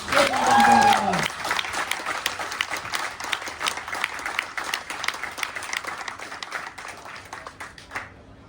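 Applause for the competitors at a seaside festival contest, a steady, crowd-wide clapping after a brief voice at the start, continuing evenly before cutting off near the end.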